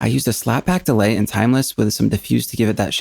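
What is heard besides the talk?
No distinct noise like a dog, phone or traffic.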